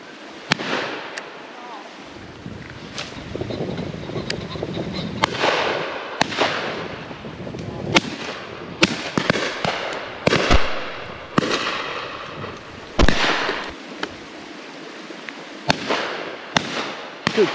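Shotgun shots ring out at a pheasant shoot on Exmoor, a string of sharp, loud reports scattered irregularly, some near and some farther off, with wind noise and men calling out between them.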